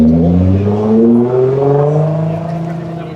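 An orange C8 Corvette engine rumbles nearby at a steady idle with a slowly shifting pitch, loud and continuous throughout.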